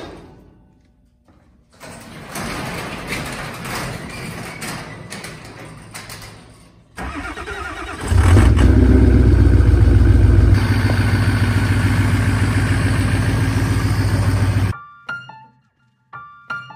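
A truck engine turns over after some clattering, then rumbles loudly and steadily at idle before shutting off abruptly.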